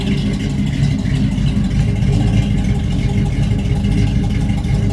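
A warmed-up truck engine runs steadily at close range, a loud, continuous low rumble with a slightly pulsing exhaust throb and no voices.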